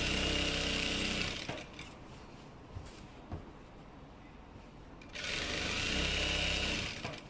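A sewing machine stitches a pinafore in two loud, steady motor bursts, the first about one and a half seconds and the second about two, with a quieter pause between them and no talking.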